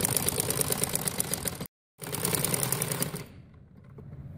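A sewing machine stitches fabric for an umbrella frock, running in a close, fast, even mechanical whir with a short pause, then slowing and fading to a faint hum.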